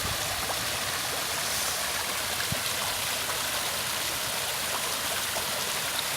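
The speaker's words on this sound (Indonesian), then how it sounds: "Airnya gemericik, dan ini air buangan dari atas." A babbling stream of clear water pouring down from above at a fishing spot, a steady close trickling and splashing wash with no talking.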